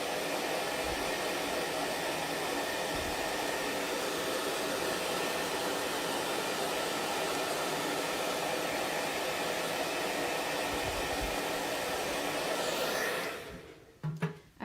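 A hair dryer blows a steady, loud, close rushing whoosh over wet chalk paste for about thirteen seconds, then cuts off, leaving a few faint handling sounds.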